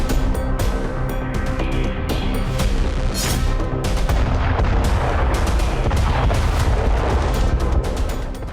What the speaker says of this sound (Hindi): एक विनाशक ब्लास्ट और इसके बाद बारूद से सना धुआं आसमान की तरफ उठता दिखाई दिया।